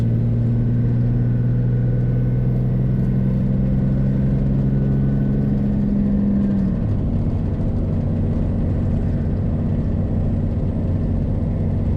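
A second-generation dually truck on 22-inch semi wheels with 33-inch tires cruises at 70, loud steady road and engine drone filling the cabin, with a constant low hum that drops in pitch partway through.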